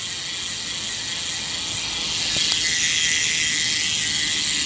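A bicycle rear hub ratchet on a Java Volata buzzing steadily as the wheel freewheels, a fast, dense clicking that stays even and grows slightly louder partway through.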